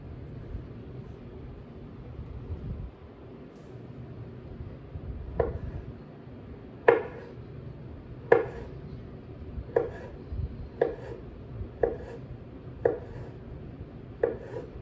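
Knife slicing salad ingredients on a cutting board, a series of about eight crisp, evenly spaced chops ringing out close by after a few seconds of quiet rustling.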